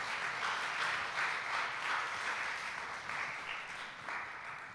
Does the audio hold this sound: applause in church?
yes